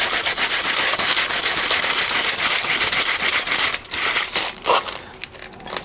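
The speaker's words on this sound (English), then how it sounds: "one way of getting that off is to rub with a piece of aluminium foil" Aluminium foil scrubs surface rust off steel measuring gear in quick repeated rubbing strokes, a close, harsh crinkling scrape that pauses and resumes near the end.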